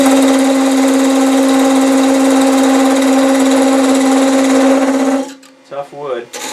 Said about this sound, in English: I mounted the drill bit in the drill chuck